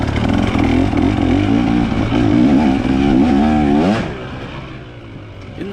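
A dirt bike races past during a hare scramble, its engine loud and close with a wavering rising pitch, then dropping sharply and fading as it moves away after about four seconds.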